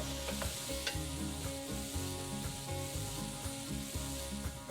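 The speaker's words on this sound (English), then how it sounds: "All the juices from the apple will start coming out, start deglazing the bottom of this pan, so keep scraping" Apple pieces sizzle and fry steadily in a hot pan while a spoon or spatula stirs and scrapes the bottom in repeated strokes, close and continuous, with no talking.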